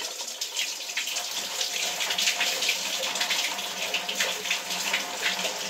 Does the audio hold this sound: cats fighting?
no